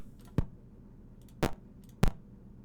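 Retro synthesized laser-shoot effects generated in BFXR for a Unity first-person shooter, three short sharp zaps spaced apart over a quiet hiss.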